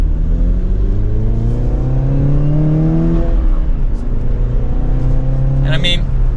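A 2023 Chevrolet Camaro 2LT RS with a manual gearbox and a 4-cylinder turbo accelerates hard from second gear. The engine drone rises steadily in pitch from inside the cabin, then eases briefly and climbs again, loud and close, while someone talks over it.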